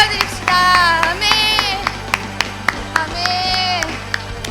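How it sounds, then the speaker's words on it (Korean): A church congregation at a youth worship service claps in praise to God: scattered, sharp hand claps ring out in an irregular rhythm while voices call and sing loudly over them in a lively hall. "우리 하나님께 찬양과 영광의 박수를"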